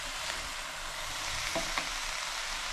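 Rice stir-frying in a pan with a tablespoon of soy sauce for restaurant-style mixed fried rice, a steady close sizzle broken by a couple of brief scraping stirs.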